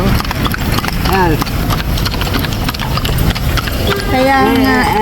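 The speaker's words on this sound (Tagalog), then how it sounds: "Natutuwa sila sa kabayo, eh." Horse hooves clip-clop on the streets of Intramuros, Manila, as a horse-drawn carriage passes, a steady rhythmic clatter running throughout beneath constant nearby conversation and a brief whinny-like tone near the end.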